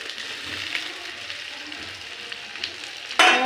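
Chicken curry sizzles steadily in hot oil, then pre-boiled fried potatoes drop into the pan with a sudden louder hiss and splatter at the end.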